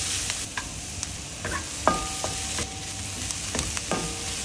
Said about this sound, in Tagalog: Maggisa ng onion, garlic and ginger until aromatic.